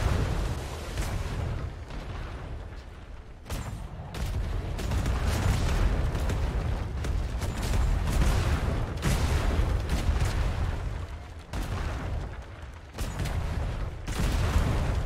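Ship cannons fire repeatedly during a brig raid in the ATLAS video game, a dense barrage of booming shots and blasts coming in irregular bursts over a constant rumbling din.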